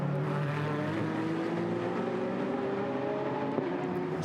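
GT America race cars at Nashville circuit, engines droning loudly and steadily with a sustained rising pitch as they race past, no talk over the roar.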